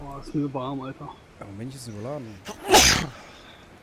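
A single loud, sharp sneeze bursting out close to the microphone right after someone talks, followed by a brief quiet.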